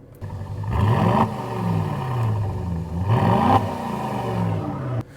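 A sports car's exhaust on its extra-loud setting blares through two sharp revs, each climbing and dropping back. The engine roar is loud and close throughout with no talk, then ends suddenly.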